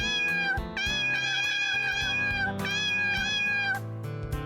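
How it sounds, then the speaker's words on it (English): Repeated cat meows from a video game, long tonal cries one after another at steady loudness, with no talking over them. "I'm tempted to just like button mash the input on this to get the cat like sound going constantly"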